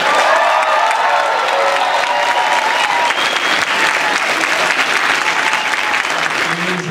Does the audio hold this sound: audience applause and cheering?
yes